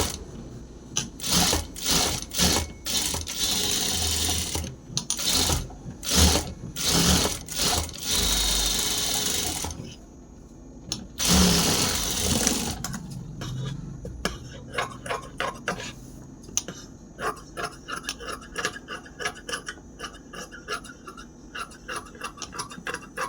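A sewing machine stitching a blouse runs in repeated close, loud bursts of rapid mechanical chatter, with short pauses between runs and a longer stretch of steady stitching toward the end.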